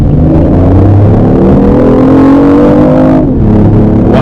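A 2015 BMW i8 in sport mode revs hard, its engine note loud and close, a steady harmonic drone that climbs and holds high before dipping near the end.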